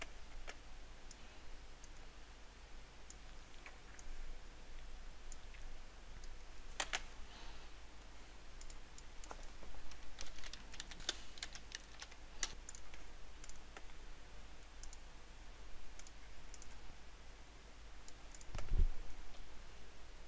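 Someone types a title on a computer keyboard, producing a long run of light, scattered key clicks, faint and close, with a few slightly louder taps.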